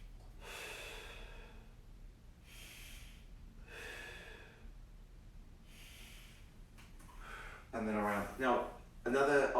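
Deep, slow breaths in and out during a seated glute and low back mobility stretch, several soft airy inhalations and exhalations spaced a second or two apart, close and quiet, with speech near the end.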